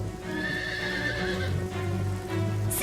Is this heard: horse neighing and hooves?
yes